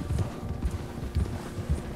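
Horses from Red Dead Redemption 2 gallop through snow, their hooves thudding in a steady repeating rhythm of low, muffled beats close by, with no talk over them.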